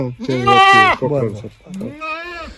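Goats bleat loudly and close by on a goat farm, several wavering cries in a row, with a short pause before a final drawn-out bleat.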